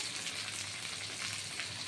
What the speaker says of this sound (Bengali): রসুন পেঁয়াজ লাল করে ভাজা হবে